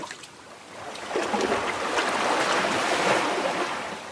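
Ocean waves wash onto a beach in a drama sound effect, a soft swell that builds into a sustained rushing surf, with a brief splash at the end.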